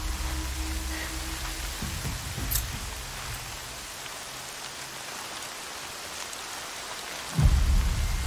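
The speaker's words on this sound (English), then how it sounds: "More rain. My boots will get damp." Rain patters steadily in Horizon Zero Dawn, with low rumbles of thunder early on and a heavier deep crack of thunder bursting in near the end.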